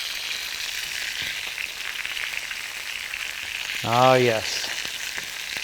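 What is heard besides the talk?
pork chops searing in a hot pan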